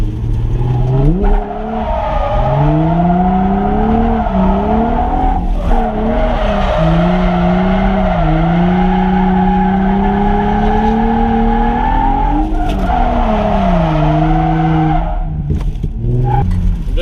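A Nissan 350Z with a hydraulic e-brake skids, its tires squealing loudly in long, wavering, pitch-bending wails over the engine's drone, with short breaks between slides.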